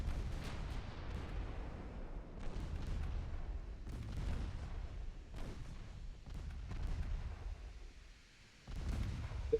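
Warship guns in the naval game Ultimate Admiral Dreadnoughts boom in repeated salvos, deep rumbling blasts spaced a second or two apart over a low churning background.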